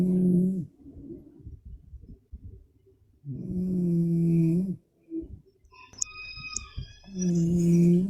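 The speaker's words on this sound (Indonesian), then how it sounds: "Tema pagi hari ini dengkuran." A person snores loudly and close by in slow, regular cycles, each rasping inhale followed by quieter breathing, with a brief burst of faint background noise between snores.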